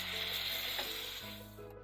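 Spiced masala of yogurt and mashed potatoes frying in a pan gives a steady, soft sizzle that runs unbroken and fairly quiet throughout.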